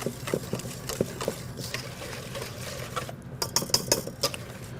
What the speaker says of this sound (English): I'm going to try the whisk.